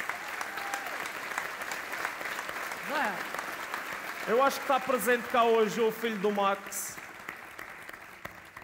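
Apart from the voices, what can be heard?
audience applause for Max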